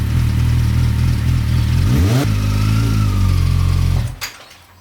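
A homemade go-kart engine runs loud and close, its note swelling as it revs near the middle, then cutting off abruptly near the end.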